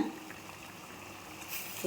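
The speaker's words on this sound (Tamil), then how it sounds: "வாழைப்பூவையும் சேர்த்தாச்சு வாழைப்பூ நல்லா வேகட்டும்" A pot of banana flower and chana dal curry simmers quietly, giving a faint, continuous bubbling hiss with no other sounds over it.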